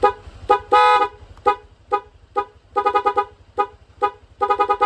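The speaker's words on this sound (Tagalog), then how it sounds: "Hindi siya nagpapalit ng busina." Car horn set off from an aftermarket music horn remote, sounding a string of short and longer harmonic toots in an uneven rhythm, loud and close over a low buzzing hum.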